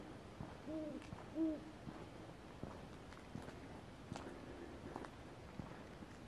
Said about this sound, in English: Still listen to the owls under the moonlight.